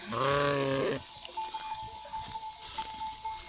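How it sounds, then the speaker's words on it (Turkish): A lamb lets out one loud, wavering bleat up close, followed by quieter farmyard rustling and a faint steady tone. "Bunlar da kuzular."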